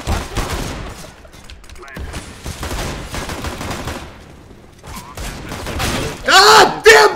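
Burst-fire gun shooting in a video game, with loud clustered bursts of rapid shots and a few impacts, heard alongside voices and ending in a sharper, louder volley.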